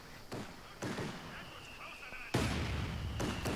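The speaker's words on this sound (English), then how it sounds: "great Bofors barrage" Bofors gun barrage in Company of Heroes 2, a string of booming shots and blasts landing in quick succession at varying distances, with a sharp loud impact near the end, under faint battle noise.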